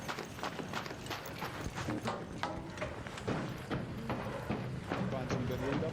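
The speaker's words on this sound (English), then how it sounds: "I keep hearing my own footsteps and it always spooks me" Rapid, rhythmic footsteps from a player character in a video game, with an echoing, clattering quality that plays continuously and close.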